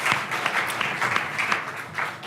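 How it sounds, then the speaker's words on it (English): An audience at a cannabis and fitness event gives a round of applause, with dense clapping sustained through the whole short stretch at moderate, even loudness. "let's give them a huge round of applause for being brave"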